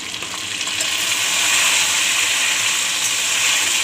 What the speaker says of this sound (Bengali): এখানে নারকোল ভাজা হচ্ছে।